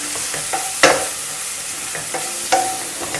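Chicken pieces being stirred and fried in a pan for mini pies, a steady sizzle broken by a few sharp scraping stirs close up, with no talk.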